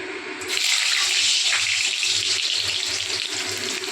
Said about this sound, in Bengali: তো আলুগুলো আমি তেলে দিয়ে দিলাম।